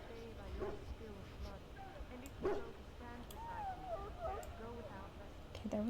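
Puppy in the video game Dragon Age: Origins whimpering with soft yips and short barks, faint and intermittent beneath game music, ambient sound and some talk.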